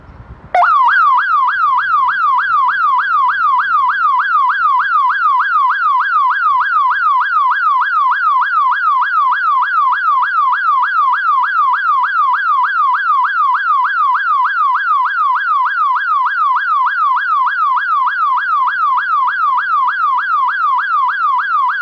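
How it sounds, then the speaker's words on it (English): A BTOB Sense security alarm, triggered by motion detection, wails a loud continuous electronic siren with a rapid steady warble that starts abruptly and holds unbroken throughout, alone with no voices. "the alarm was activated automatically due to motion detection"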